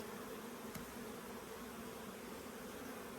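Honey bees swarm around frames lifted from a hive, giving a steady, dense buzzing hum with one brief thump partway through.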